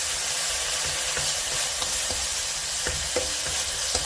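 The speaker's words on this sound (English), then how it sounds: "And that's how we brown the meat." Meat browning in a pan with a tablespoon of soy sauce for a Korean New Year dish, a steady close sizzle with scattered spatula stirs and scrapes, no talking.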